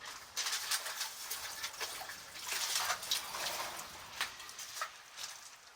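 Water splashed and poured over clay while building a wood-fired clay oven, a run of wet trickling and splattering bursts, fairly close and moderately loud, with no talking.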